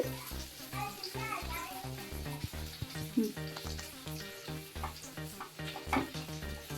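Ghee added to rava kesari, a semolina sweet, sizzles softly in a pan while a spoon scrapes and stirs in an uneven rhythm, faint beneath a voice and children chattering in the background.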